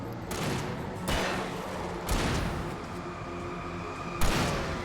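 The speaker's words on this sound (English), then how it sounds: "please don't get in the way of my revolver shooting" Revolver shots in Alan Wake Remastered: four sharp, loud blasts spaced about a second apart, each ringing out over a busy, rumbling game background.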